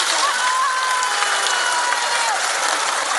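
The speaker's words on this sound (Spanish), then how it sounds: "pido un aplauso para ellos y para ellas" A crowd at a Mexican government event bursts into dense, loud applause, a continuous wash of many hands clapping with no gaps across the whole span. Faint whistles cut through the noise.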